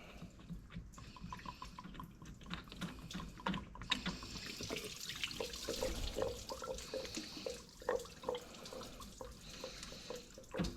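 Engine coolant from a Mazda Miata NB drains onto the ground with no pan underneath, a steady liquid trickle and splatter with small drips, moderately close, over the whole span, with no talk.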